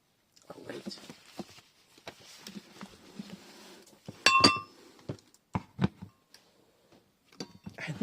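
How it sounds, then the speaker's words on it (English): A mug knocked over on a table gives a bright clink and a few clattering knocks in the middle of quiet indoor rustling, near and fairly soft, with a voice murmuring faintly at times. "I knocked my mug."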